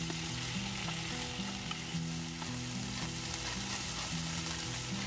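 Stir-fry sizzling hard in a pan after oyster sauce goes in, a dense continuous hiss with faint scraping as the food is turned over, alongside a steady low hum.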